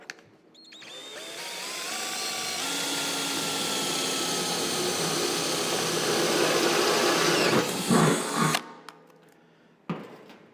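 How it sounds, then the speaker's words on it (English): A power drill whirs steadily for several seconds as it bores a hole in a cast iron barrel stove door, then winds down and stops with a couple of short bursts after. "I'm just going to drill a hole in here with just a drill bit and a drill"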